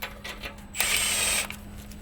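Sway bar bolts on a RAM TRX being tightened with a 15 mm ratchet give a short burst of rapid clicking pawl ratcheting up close, set against a faint steady hum, without talking.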